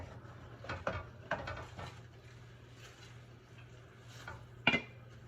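Spinach for saag paneer cooking in a home kitchen: a few quiet clinks and scrapes of a spoon against a pot, spaced irregularly over a low steady hum, with no talking.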